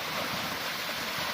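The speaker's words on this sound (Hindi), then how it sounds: "पहाड़ों के काफी ऊपर से बहता है" A mountain waterfall pours down from high above, a steady broadband rushing roar of falling water with no breaks, heard alone without voices.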